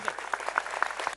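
Brief applause greets a guest on a televised Indian political debate show, a short burst of clapping from a studio audience that stops abruptly after about a second.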